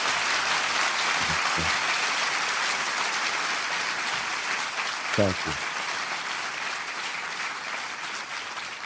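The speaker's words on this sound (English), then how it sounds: "Please run the applause." A broad, even wash of audience applause at a live conversation event with an author, sustained throughout, with a brief spoken word near the middle.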